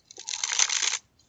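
A Bicycle Cyclist playing card deck being cut, giving a single close, crisp riffling swish of cards sliding across each other for nearly a second, alone without talk.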